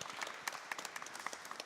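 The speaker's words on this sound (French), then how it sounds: "On t'applaudit par avance et on t'écoute." An audience in St Pierre church in Jarnac applauds before a musical performance, a short burst of quiet, scattered clapping heard from a distance.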